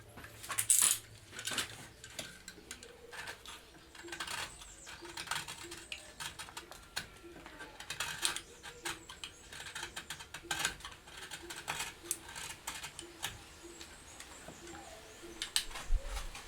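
A utility knife trims material on an alfaia drum in an instrument-making workshop, giving close, quiet, irregular scraping and clicking cuts spread over the whole stretch.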